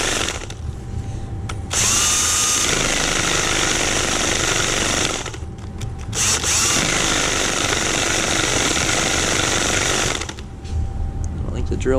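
A power drill works on a broken boat trailer wheel during an axle replacement, giving loud sustained whirring bursts with brief pauses between them and a rattling impact texture.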